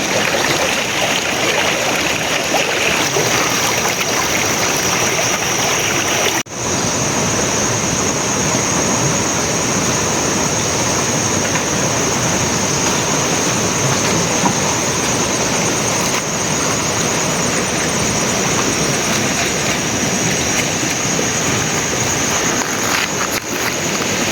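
River water flows in a continuous, loud rushing wash at a crab-trapping spot, unbroken and close for the whole stretch, with no voices.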